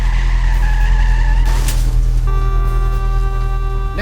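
Tires squeal loudly in sustained, wavering tones over a heavy engine rumble, shifting pitch as the car skids.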